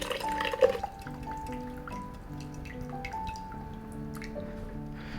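Whey from fresh ricotta drips through a fine mesh strainer, a quiet, close, steady patter of small drops.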